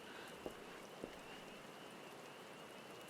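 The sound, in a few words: rain falling in Gridania, Final Fantasy XIV video game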